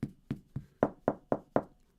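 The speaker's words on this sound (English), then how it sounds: "Knocking on the door." Seven sharp knocks on a door in two groups, three spaced then four quicker ones, each a close, solid thud with a brief ring, no talk over them.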